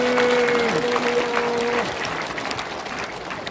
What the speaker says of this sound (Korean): 우리 여기서 우리 스스로 박수 한번